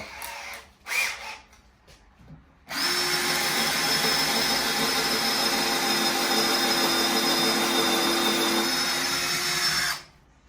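A power drill bores into wood: a steady, loud whine runs unbroken for about seven seconds and cuts off abruptly, preceded by a few brief knocks and handling sounds.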